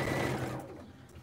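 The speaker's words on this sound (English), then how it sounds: "So I'm just going to go ahead and sew down this quarter inch." A Juki sewing machine runs a quarter-inch seam at a 2.0 stitch length, giving a close, steady whirring hum that eases off and fades after about half a second, with no talk.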